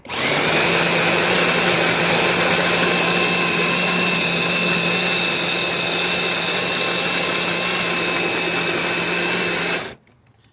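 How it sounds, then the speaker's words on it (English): Electric grain mill grinding wheat for a wheated bourbon mash, a loud steady motor whine with harmonic hum running continuously for about ten seconds, then stopping abruptly. "Now we're gonna grind our wheat."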